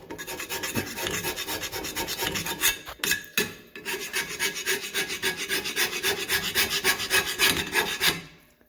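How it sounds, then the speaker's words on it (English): A Matco scraper dragged across a surface in quick repeated strokes, a close rhythmic rasping scrape with a brief pause partway through, no voices. "I'm amazed by this little scraper."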